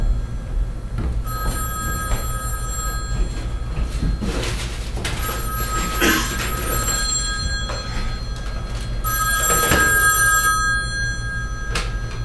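An old telephone bell rings in repeated bursts, fairly close, over a low steady room hum, with some knocking and movement sounds between rings.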